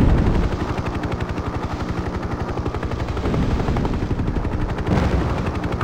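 Sustained automatic gunfire from enemy ground positions in the Hind helicopter combat game, set in a Kazakhstan campaign, rattles in rapid bursts over a steady rotor drone throughout.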